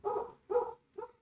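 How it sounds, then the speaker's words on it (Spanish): A dog barks three times in a short, close sequence, the last bark softer and clipped, in an eerie survival horror game setting. "Y mi perro ladrando."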